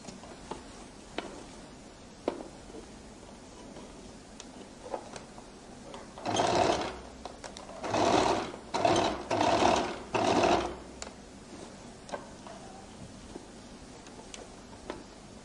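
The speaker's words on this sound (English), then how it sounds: "I roll it open and I now begin to stitch." A sewing machine stitches a flared skirt seam in several bursts of running, each a few seconds long, with short pauses between them and quiet handling clicks around them.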